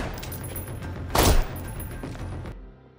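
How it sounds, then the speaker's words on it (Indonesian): A suspect fires from a basement during an Israeli special forces raid: a loud, sharp burst of rapid gunfire punches through steady background noise, then the scene drops to near quiet. "Tersangka melepaskan tembakan dari ruang bawah tanah."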